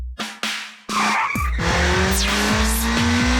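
Cartoon auto rickshaw braking hard at a traffic signal, a long loud tire squeal that sweeps and wobbles over a droning engine, preceded by a few sharp clicks, comedic animated effect with no talk.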